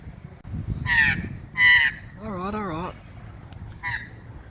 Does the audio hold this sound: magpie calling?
yes